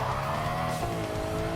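A 1997 BMW E36 M3 fitted with a Honda Civic engine spins its wheels in a racing game, the engine droning at a steady pitch while tires squeal continuously.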